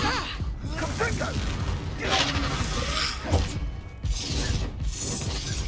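Confringo blasting spell exploding in the Hogwarts Legacy video game, a dense crackling burst among combat whooshes and impacts, loud and close, with a voice speaking over it.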